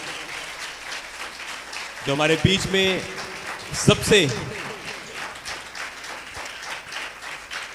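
A church congregation claps steadily in thanks during a Hindi sermon, a constant patter of many hands running beneath a preacher's amplified speaking voice.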